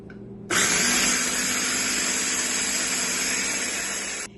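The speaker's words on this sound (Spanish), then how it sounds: "vamos a echar el huevo y lo volvemos a triturar hasta que quede hecho un puré" A blender purees boiled malanga with an egg: a loud, steady motor whine that starts abruptly and holds for about four seconds before cutting off, with no talk.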